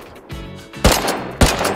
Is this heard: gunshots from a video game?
yes